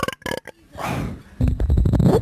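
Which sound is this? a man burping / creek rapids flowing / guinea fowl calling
a man burping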